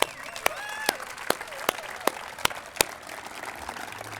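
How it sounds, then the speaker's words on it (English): A few loud, evenly spaced claps ring out near by, about two per second, over a busy background of scattered crowd noise and murmuring at a city State of the City address. "So let's give them a huge round of applause."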